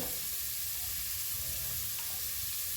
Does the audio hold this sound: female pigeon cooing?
no